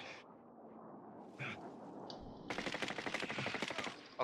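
Video game gunfire in an online shooter match: a few scattered shots, then a sustained rapid automatic burst of close, sharp reports lasting over a second.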